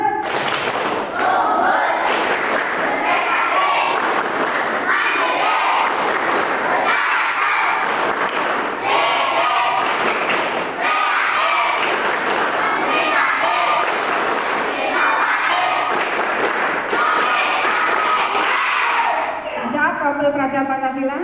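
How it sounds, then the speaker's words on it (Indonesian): Children in a school assembly chant and clap in unison, loud and rhythmic, their voices and claps forming a continuous group sound with regular beats throughout. "Coba anak-anak sekali tepuk ajaran mantap."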